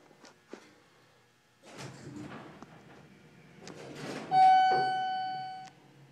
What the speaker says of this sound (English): The doors tried to open.